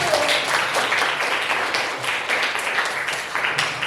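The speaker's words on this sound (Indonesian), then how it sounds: "Tepuk tangan untuk Nova." Classmates clapping in a ninth-grade civics classroom, a steady, moderately loud patter of many hands that continues throughout.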